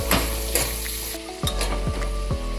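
Long-sliced onions sauté in a hot pan on the way to golden brown for paneer biryani, a steady oily sizzle broken by the scrape and clatter of a spoon stirring several times, close and loud, with no voices.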